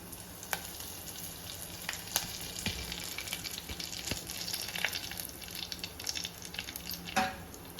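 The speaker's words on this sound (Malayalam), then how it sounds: "അതിലേക്ക് നമുക്ക് വറ്റൽ മുളക് ഒരു നാലഞ്ച് വറ്റൽ മുളക് രണ്ടായിട്ട് മുറിച്ചത് നമുക്ക് ഇട്ട് കൊടുക്കാം" Mustard seeds, halved dried red chilies and curry leaves fry in hot oil for Kerala-style inji puli, giving a steady close sizzle with scattered crackles and pops throughout.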